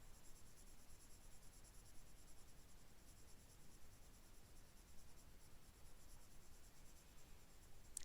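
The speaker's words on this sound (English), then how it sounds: "I'm going to push a little bit harder on that pencil" Colored pencil layered onto paper with slightly firmer pressure makes a faint, steady scratchy hiss of continuous strokes, close up with no talking.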